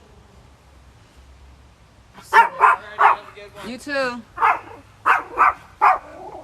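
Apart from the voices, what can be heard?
dog barking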